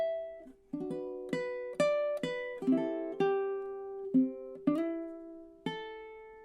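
Solo ukulele plucked fingerstyle plays measures 9 to 12 of Shenandoah: clear, close single notes and small chords ring out one after another at a slow, gentle pace, alone with no speech.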